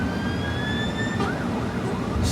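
An emergency vehicle siren wails behind a car on the road, the rising and sweeping tones heard over steady road and engine noise inside the vehicle, with no talking.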